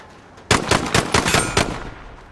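Automatic gunfire in Call of Duty: Modern Warfare, a loud close burst of about seven rapid shots in even rhythm that starts abruptly and then cuts off, with no talk over it.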